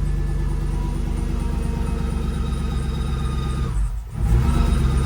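A Chevy Tahoe with a 5.3 LS V8 idles after restarting, a steady close low rumble with a faint rhythmic pulse that briefly dips near the end before settling back in.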